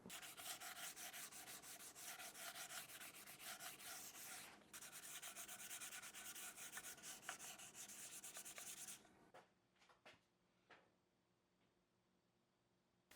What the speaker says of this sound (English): so now I'm going to hit it with some 400 grit